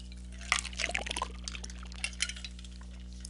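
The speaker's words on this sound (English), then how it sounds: "Sorry, that was my water bottle again." Water bottle handled near a microphone: clinks, light sloshing and plastic crinkles in scattered bursts over a steady electrical hum, fairly close and moderately loud, with no speech.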